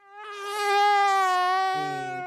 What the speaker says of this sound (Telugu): పెద్ద దోమే ఇది.